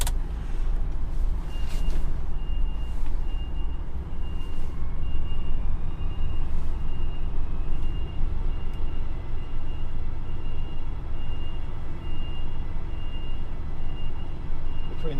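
A DAF XF 480 heavy goods truck reverses slowly between a container and a trailer, its steady diesel rumble constant throughout while a thin, high reversing beep repeats faintly in the background.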